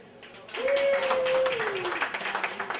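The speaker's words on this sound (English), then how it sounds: "Clap your hands." Comedy show crowd claps along after a prompt from the stage, a steady wash of applause with a sustained tone running over it.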